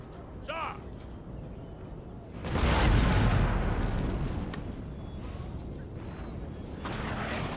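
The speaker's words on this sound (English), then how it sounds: "the amount of cannon shot coming towards us as well at the same time" Cannon fire rumbles through a Napoleon: Total War battle, with a deep, heavy boom rolling in mid-clip and further blasts in the background, while someone talks over it.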